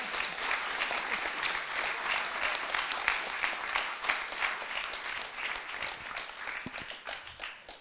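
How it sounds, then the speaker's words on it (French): An audience at a public event on digital technology claps warmly for a guest, sustained dense applause lasting several seconds that thins slightly toward the end, with no voices over it. "Je vous prie d'applaudir chaleureusement Madame Axel Lemaire"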